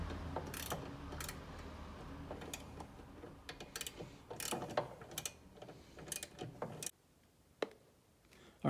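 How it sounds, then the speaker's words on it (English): A ratchet tightens a nut on a small cowl-mounted spotlight bracket on a Jeep JL, giving repeated clicking bursts under steady background noise before it drops to near quiet with a couple of faint ticks. "I'm going to tighten this nut for this little bracket right here"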